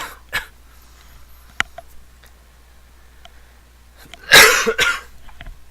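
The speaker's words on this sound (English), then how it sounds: "I'm gonna cough." A single harsh, close cough bursts out after scattered small clicks and taps, followed by a brief rustle and quieter sounds.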